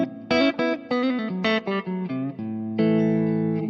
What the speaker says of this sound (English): So right now we're just hearing reverb.